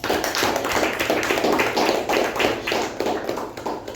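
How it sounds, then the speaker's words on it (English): A meeting audience gives the president a round of applause, dense continuous hand clapping from many people, loud and close, with no talk over it. "let us give him a thunderous round of applause"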